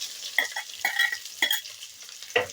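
Mixed vegetables fry in a pan over a low flame for a vegetable dal, with a soft, steady sizzle broken by repeated scraping stirs at irregular intervals.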